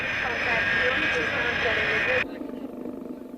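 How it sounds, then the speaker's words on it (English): A yellow Boeing 707 freighter taxiing on airport tarmac: a loud, high jet-engine whine over a rumbling roar that cuts off abruptly, leaving a quieter low rumble. "A yellow Boeing 707 freighter lumbers to a parking space on the tarmac."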